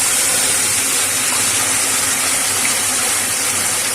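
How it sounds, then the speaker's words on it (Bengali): Ginger, garlic, onion and green chili paste hits hot ghee in a pan, giving a steady, close, loud hiss and sizzle that holds without a break. "এবার এর মধ্যে আদা, রসুন, পেঁয়াজ, কাঁচা লঙ্কা ধনে করে বেটে রেখেছিলাম দিয়ে দিলাম।"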